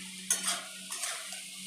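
Papaya fry being stirred in a pan: a few quick scraping and clinking strokes of a utensil over a low sizzle, close by, with a steady hum underneath and no speech.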